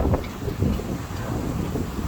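Strong wind gusts outdoors on a windy day, buffeting the microphone as a continuous rough, rumbling roar that swells and eases, with no voices.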